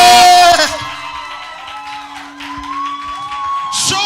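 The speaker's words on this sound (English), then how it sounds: "With a standing ovation. And a round of applause." A crowd cheers and whoops for a standing ovation at King's Business and Career Expo 2.0, a loud burst that settles into a steady roar under a sustained musical tone, with another swell near the end.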